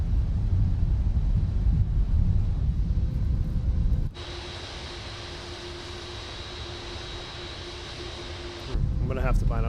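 Boeing 747-8F in X-Plane with engines at idle reverse thrust: a steady broadband rush and hum with a faint tone, dropping quieter mid-way before louder rumble returns, with talking over it.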